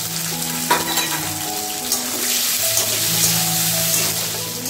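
Chopped onion and a small tomato sizzling in a pan with bay leaf for a homemade chicken biryani, a close, steady frying hiss with stirring scrapes and a brief splash of water in the background.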